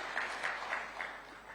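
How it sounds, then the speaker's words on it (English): Audience applause at a formal ceremony with a cabinet secretary and dignitaries, a steady wash of clapping from a crowd that holds at an even level throughout without fading. "let's give him another round of applause"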